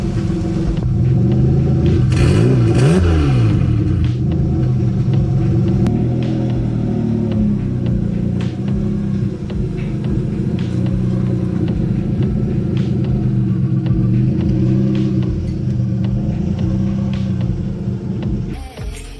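A Mazda MX3 engine, freshly fitted with a replacement cylinder head, roars loud and close, revving up and dropping early on before settling into a steady heavy rumble that continues to the end.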